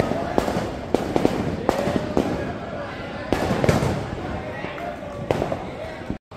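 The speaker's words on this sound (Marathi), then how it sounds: "मला फटाक्यांचे आवाज सुद्धा येत असतील" Firecrackers burst repeatedly during Diwali in sharp, irregular cracks, some near and some farther off, over a continuous background of crowd noise and voices.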